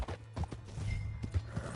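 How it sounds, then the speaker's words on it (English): Horse hooves clip-clop at a quick, uneven pace in the Red Dead Redemption 2 video game, close and moderately loud over a low steady hum. "Hey, that's my horse!"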